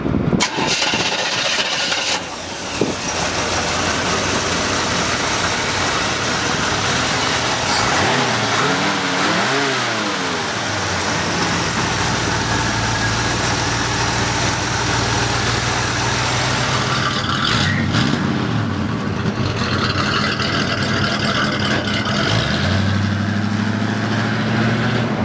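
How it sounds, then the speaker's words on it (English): A 1955 Chevrolet 3100 five-window pickup truck engine starts and runs loud and close, settling into a steady idle with a couple of revving swells partway through, with no talking. "Let's take this truck for a ride."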